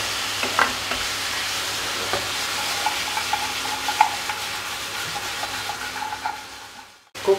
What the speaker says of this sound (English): Let me start mixing it well.